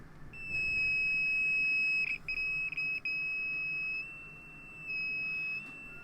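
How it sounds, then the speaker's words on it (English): A small electronic buzzer wired on a breadboard to a battery sounds a steady high-pitched electronic tone, cutting out briefly and stuttering midway, then resuming, close and fairly quiet. "I have a little buzzer that's buzzing."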